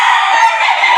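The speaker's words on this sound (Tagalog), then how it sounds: "Ito mga boss is mga class A to na bullstag nila." A bullstag gamefowl rooster crows on a large farm, one loud, close, sustained call filling the whole moment with no talking.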